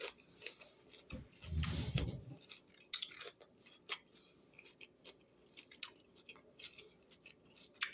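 Close, crisp mouth noises of someone eating homemade veggie pizza, a loud crunchy bite early on followed by scattered soft chewing clicks and smacks in a quiet room.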